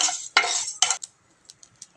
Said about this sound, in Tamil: பாருங்கள், நல்லா பொரிக்கிறது தெரியுதுங்களா